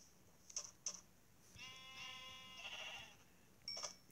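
A sheep in the video game Minecraft bleats once in a drawn-out, wavering call, bracketed by a few faint clicks, heard quietly with no talking.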